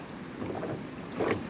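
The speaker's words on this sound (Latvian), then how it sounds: "Vējš jau vidējais gan." Moderate wind blowing by open water during a fishing outing, a steady broadband rush with gusts swelling near the end, with no voices.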